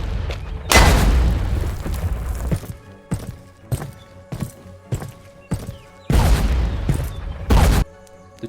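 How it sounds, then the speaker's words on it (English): Repeated booming mortar blasts from a WW2 stop-motion battle scene with toy army men, loud broadband bursts arriving in irregular bursts with shorter thuds between them, no voices. "the mortar team will fire on the front of the building to cause a diversion."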